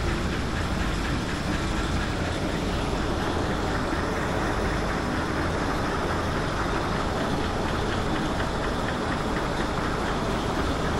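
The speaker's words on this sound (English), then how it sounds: "There goes the train." A roller coaster train runs along its track through a block-zone section, a steady loud rumble with broadband roar that holds throughout without pauses or talk.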